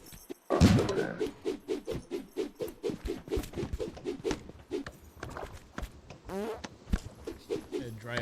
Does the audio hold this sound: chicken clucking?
no